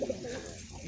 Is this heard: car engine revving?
no